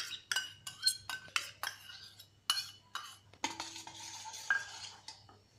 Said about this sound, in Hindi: उसमें हम दही को डालेंगे।